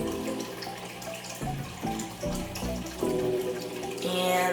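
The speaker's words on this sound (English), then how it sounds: "I'm going to go ahead and pour the milk in this one" Milk pours steadily into a glass close by, gurgling with shifting pitch as the glass fills, without pause.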